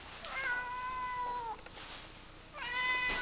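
Nicky the cat gives two clear, drawn-out meows with a short pause between them, close and fairly loud, with no talking over them.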